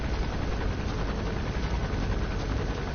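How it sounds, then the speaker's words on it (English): In-game helicopter from Metal Gear Solid V: The Phantom Pain, a steady loud low rumble with a broad constant roar throughout, no breaks or talk. "I should be able to extract him with the noise of the helicopter covering it"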